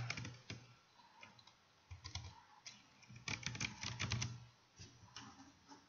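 Quick bursts of close computer-keyboard typing, with irregular clusters of key clicks and pauses between them, fairly quiet and with no voice over it.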